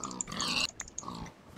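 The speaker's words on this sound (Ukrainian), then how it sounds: "Я тут свиней кучу знайшов." Pigs oinking in Minecraft with the Tekkit mod, several short nasal grunts and squeals in quick succession, fairly close and clear with no talk over them.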